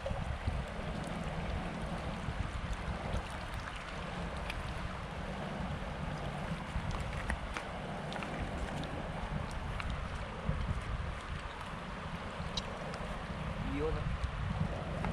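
A motorboat travelling along the Busuanga river, its motor humming steadily and at moderate distance under wind buffeting and splashing water, with occasional faint voices.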